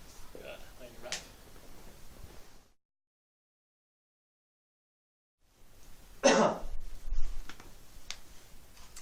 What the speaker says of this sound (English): I coughed into my elbow, by the way.